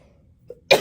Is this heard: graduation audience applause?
no